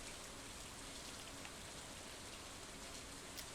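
Steady rain falls on a rainy day in the farming game Stardew Valley, a dense, even hiss of drops that continues alone throughout.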